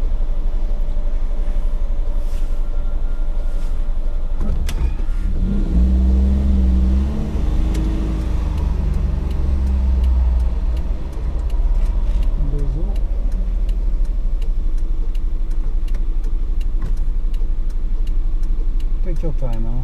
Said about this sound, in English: Turn off the fan a little bit so we can hear the engine